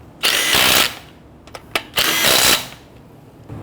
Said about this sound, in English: When tightening down the lug nuts, you want to do it in a crisscross pattern.